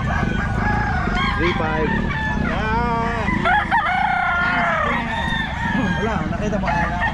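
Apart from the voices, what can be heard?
young roosters (bullstags) crowing at Bocaue pet market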